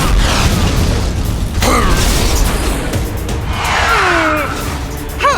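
In an animated car racing battle, a steel cannonball fires with heavy mechanical clanks, creaks and ratcheting whooshes, loud and dense throughout with a booming burst near the end.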